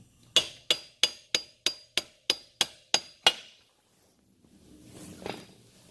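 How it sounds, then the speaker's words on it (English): A hammer, used in place of a mallet, lightly taps out a dirt bike wheel bearing: ten sharp metallic taps in a steady rhythm, close and clear, then a quiet pause and faint handling noise. "We don't have a mallet, so we're going to be using a hammer. And you lightly tap it out."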